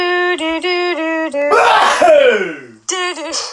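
A single loud, close human sneeze bursts out between stretches of a voice humming a repeated melody, the humming resuming right after.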